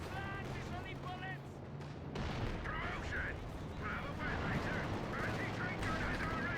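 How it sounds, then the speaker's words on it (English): Heavy strafing-run gunfire and rumbling impacts sweep across a real-time strategy battle, building louder partway through, with chirping higher-pitched effects layered on top and a commentator talking over it. "Oh, strafe coming in."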